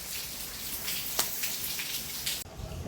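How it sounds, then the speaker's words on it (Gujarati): Heavy downpour hammering steadily nearby on a rural Gujarat homestead, a dense continuous hiss with scattered louder drops and splashes, no voices, briefly dipping near the end before carrying on. "પાછો આવી ગયો વરસાદ."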